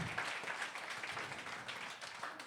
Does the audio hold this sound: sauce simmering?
no